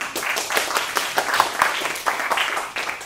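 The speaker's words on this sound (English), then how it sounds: "let's give him a round of applause" A conference audience at a university tech talk bursts into applause for a speaker, a dense, lively patter of many hands that stays loud for a few seconds.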